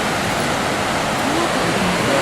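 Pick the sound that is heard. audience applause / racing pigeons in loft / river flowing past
river flowing past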